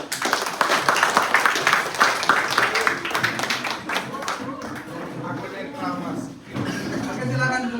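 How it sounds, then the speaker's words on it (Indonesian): Students in a classroom clap in a brief burst of applause that fades out after a few seconds, followed by talk, shuffling and murmuring. "Ega, berikan tepuk tangan."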